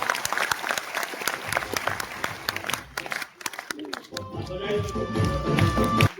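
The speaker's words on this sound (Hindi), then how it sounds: "तालियां बनती है जोरदार वाली" Loud, sustained audience applause fills a seminar hall at a leadership training session, dense clapping throughout, swelling toward the end with crowd noise and some voices underneath.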